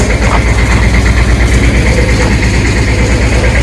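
A tractor engine idles close by, a loud, steady low rumble with a regular throbbing pulse and no voices over it.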